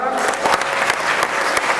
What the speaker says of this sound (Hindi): ताली बजाएंगे जोरदार।